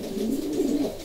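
Low, throaty racing pigeon cooing rolls continuously, close and clear, with no talking.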